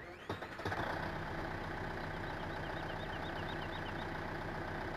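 A tractor engine in the Farming Simulator 15 video game runs steadily, heard from inside the cab, with a rough, even idle after a brief start-up thump.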